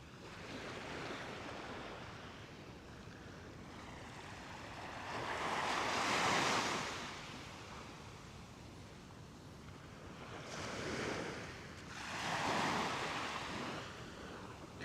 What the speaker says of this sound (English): not getting batted about with the surf and the waves